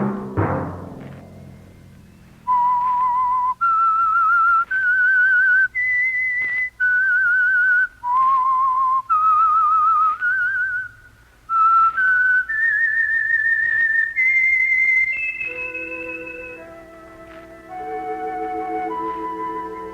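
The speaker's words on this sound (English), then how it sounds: "Let that whistle be your signal for the Signal Oil program, The Whistler" Melodic whistled tune used as a radio mystery show's theme signal, a series of clear sustained notes rising and falling in a slow phrase, heard alone after a brief opening sound.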